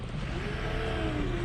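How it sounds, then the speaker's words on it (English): A car engine hums and rises slightly as the vehicle drives onto a snowy frozen lake after a massive snow storm, a steady close motor drone with a faint climbing tone. "We're gonna try driving in without getting stuck."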